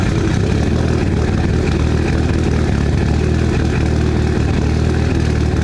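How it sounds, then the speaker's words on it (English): A Mitsubishi Evo engine running on E85 just after a cold start idles loudly and steadily, a close, even mechanical drone with no talking. "that super healthy E85 cold start"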